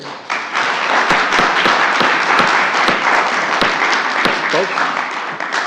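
Sustained loud applause from a crowd at a city council meeting, dense clapping throughout with a few sharper claps standing out, close and continuous.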